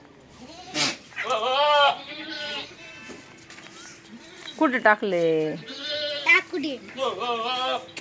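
A goat bleating repeatedly at close range, several wavering cries spread across the stretch, with people talking nearby between and over the calls.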